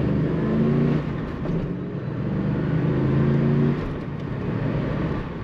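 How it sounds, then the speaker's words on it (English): A Corvette with a six-speed manual accelerates from the cabin, its engine drone rising in pitch through steady pulls with a brief dip near one second and again near four seconds, loud and smooth throughout. "Very nice acceleration in this Corvette"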